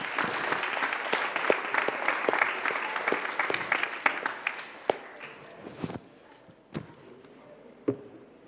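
Audience applause for two children at a children's parliament, lively clapping that starts dense and then thins into scattered claps and a few footsteps and knocks as it fades out.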